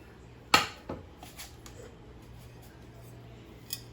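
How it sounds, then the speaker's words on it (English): Pieces of a new cook set, frying pans and skillets, are handled with one sharp metallic clank followed by a few lighter knocks and scrapes, close by in a quiet room. "we've got the frying pan with the shallow edges. We've got this one with the more straight, deeper edge."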